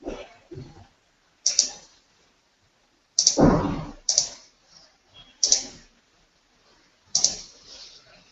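A computer mouse clicks in a quiet room, giving about five sharp, separate clicks spaced a second or two apart with a soft handling noise between them.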